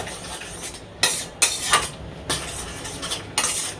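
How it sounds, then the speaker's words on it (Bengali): Dried chili, nigella seeds and crushed garlic tempered in hot oil and stirred in a pan, heard as several sharp bursts of loud crackling sizzle with metallic spoon scrapes between them, close up and without talking. "চলো সম্বার দিয়ে দিই এবার। ভালো করে নেড়ে দিলেই,"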